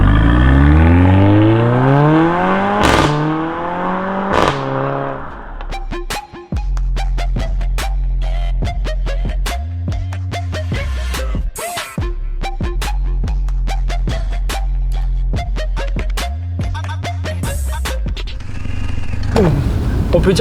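Mercedes-AMG A45 compact hatchback engine revving hard: loud rising and falling revs with sweeping pitch, sharp throttle blips and repeated rev cycles, close and dominant throughout with little else audible.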